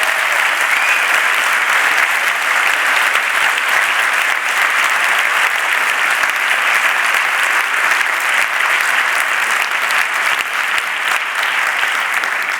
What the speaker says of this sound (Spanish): esta gente no sé por qué aplaude